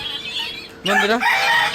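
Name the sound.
ducks and chickens clamouring for food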